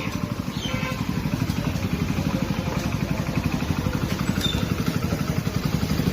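A motorcycle runs steadily close by in the grounds of a Sikh gurdwara, its mid-pitched engine beating in a fast, even throb for the whole stretch with faint background clatter.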